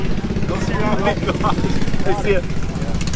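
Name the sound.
John Deere engine running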